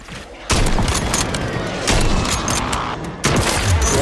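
Warzone 3 gunfire crackles through as a loud, dense fusillade of shots and booms, with bursts returning in waves and a sharp surge near the end.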